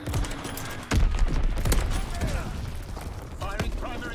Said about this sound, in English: Firing primary weapon.